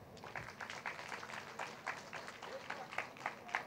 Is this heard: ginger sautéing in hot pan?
no